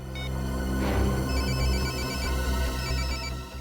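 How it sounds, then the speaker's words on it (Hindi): Mobile phone ringtone ringing indoors during a crime investigation, sounding as a steady repeating electronic melody at moderate loudness from start to finish, with no voices. "घंटी तो बज रही है और आवाज भी आसपास से ही आ रही है।"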